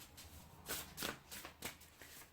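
A deck of oracle cards is shuffled close by, soft riffling swishes arriving in four or five quick bursts over a quiet background.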